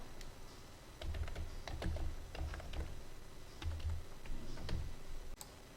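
Keystrokes on a computer keyboard while entering data into an Excel spreadsheet, close and clear, in irregular bursts of quick taps with short pauses between runs.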